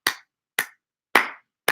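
A lone pair of hands claps four times in an otherwise silent room, each clap sharp and close with long, even gaps between them.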